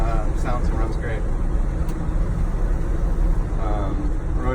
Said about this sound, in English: Road noise is pretty minimal for an old truck.